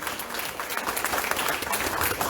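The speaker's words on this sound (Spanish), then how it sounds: "Denle un aplauso grande al Señor." A church congregation breaks into loud, dense applause, many hands clapping close together in a continuous roar.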